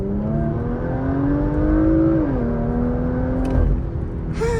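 A Porsche Macan GTS with its factory exhaust in Sport Plus mode accelerates hard, its engine note climbing steadily and loud, with a brief shift dip partway through before the revs pull up again.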